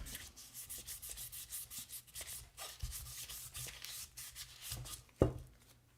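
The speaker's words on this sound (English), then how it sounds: "This piece of sandpaper is almost dead." Hand sanding of an aluminum vintage motorcycle part with worn-out sandpaper, steady rough rubbing strokes repeating close up, with a sharper scrape or knock near the end.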